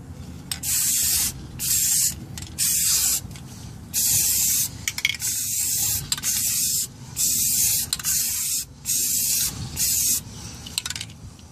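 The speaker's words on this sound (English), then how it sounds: "So now I'll spray on rust reformer." Repeated bursts of an aerosol can of rust reformer spraying onto a repaired vehicle frame, each hiss lasting about a second with brief gaps between, close and steady, no voices.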